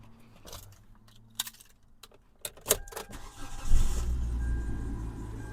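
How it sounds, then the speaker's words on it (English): A car engine cranks and catches after being jump-started with a NEXPOW 2000A peak jump starter, preceded by scattered clicks and clatter, then settling into a steady low idle rumble up close. "And then we go start the car."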